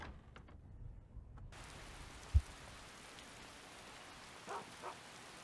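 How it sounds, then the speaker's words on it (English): Steady rainfall in the video game Skyrim, a soft, even hiss of falling rain with a single low thump and a few faint bumps, quiet and with no talking. "Oh, it's raining again."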